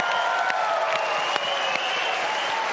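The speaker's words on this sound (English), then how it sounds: "So everybody in the house, make some noise for Chris up on the space station." A live audience at a Governors Cup event cheers and applauds for astronaut Chris aboard the space station, a loud, steady wall of clapping with whoops and shouts running the whole time and no speech over it.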